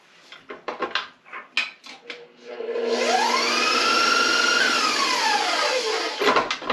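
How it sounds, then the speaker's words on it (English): An electric mixer on high speed beats gingerbread cookie dough, starting after a few clatters and knocks and then whirring steadily with a rising and falling motor pitch for several seconds before cutting off. "it says we want to beat it on high for 2 minutes"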